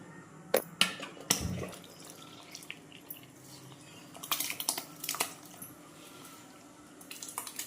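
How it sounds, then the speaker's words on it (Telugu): Broken rice grits tip into a pot of boiling water with a few sharp pattering splashes and scattered taps, followed by quieter bubbling and clinks for several seconds; no one talks. "ఇప్పుడు మనము బియ్యపు నూక వేసుకుందాం."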